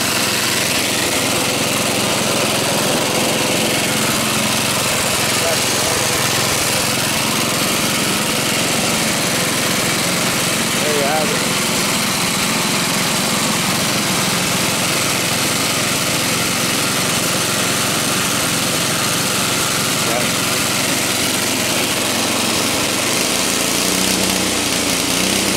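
AMF Huskey two-stage snow thrower engine runs steadily and loudly close by, a continuous small-engine drone with little change throughout.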